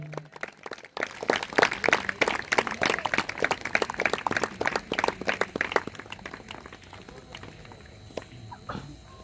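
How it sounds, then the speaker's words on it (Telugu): Audience at a church worship meeting clapping together, a burst of close, dense applause that starts abruptly, runs for several seconds, then thins out and fades. "అందరం చప్పట్లు కొడతాం."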